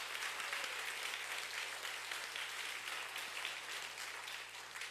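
Sustained applause from a church congregation during a Sunday worship service, a steady dense clatter of many hands filling the room at moderate loudness for the whole stretch.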